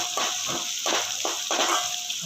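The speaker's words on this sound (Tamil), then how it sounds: "இப்போ நம்ம தண்ணி ஊற்றிக்கலாம்" Water splashing and pouring in short repeated bursts into a pot of roasted ragi flour, close by, with no voices.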